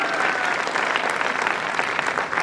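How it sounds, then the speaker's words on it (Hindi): Loud, steady applause from an audience at a wellness organization's success event, dense clapping sustained throughout with no voices above it. "संस्था के नाम से जोरदार ताली बजाइए"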